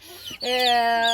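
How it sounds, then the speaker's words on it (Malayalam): A short, close call from a vaccinated chick rings out after a brief rustle, a single clear clucking vocalization, on a native-breed poultry farm. "ഇത് നമ്മളെ വാക്സിൻ എടുത്ത കോഴിക്കുഞ്ഞുങ്ങളാണ്"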